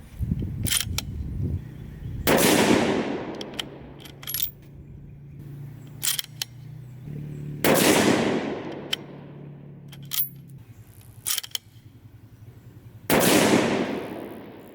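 Three loud, sharp rifle reports from a Ruger M77 Mark II in .22-250 firing Sierra 50-grain BlitzKing factory ammunition, each a sudden crack followed by a long decaying outdoor echo, spaced several seconds apart with faint clicks and handling noise between shots.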